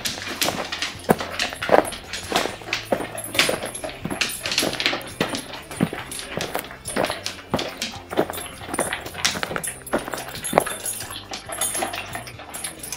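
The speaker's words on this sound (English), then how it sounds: "Do you see how quick that my dog ate that?" A dog eats food eagerly and fast up close, with quick crunching and clicking bursts, paw taps and small whimpers, in a busy and uneven rhythm.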